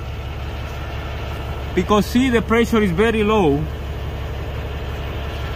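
A Cummins ISX15 diesel truck engine idles with a high-pressure fuel pump low-pressure fault, giving a steady, close, low drone throughout while someone talks briefly over it.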